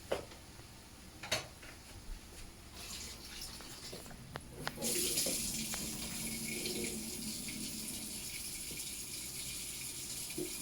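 Canned ackee rinsed under a running kitchen tap, the water starting midway as a steady hiss that continues to the end, with a few clicks and knocks of the can beforehand.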